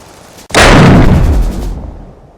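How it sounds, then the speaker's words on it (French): A German panzer tank in a WWII-style battle fires its main gun, a single loud, sudden boom that cuts in sharply and rolls off over a second or so, with no speech. "Le premier panzer ouvre le feu."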